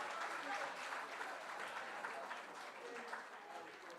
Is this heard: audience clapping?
yes